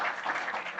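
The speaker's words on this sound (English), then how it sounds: "let's give especially Marci a big round of applause" Audience applause at an industry conference on video competition and regulation, a short wash of steady clapping that holds at moderate loudness with no voices over it.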